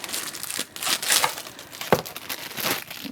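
Plastic packaging is peeled off a set of makeup brushes, giving a close crinkling and tearing in irregular bursts, with one sharper crackle near the middle.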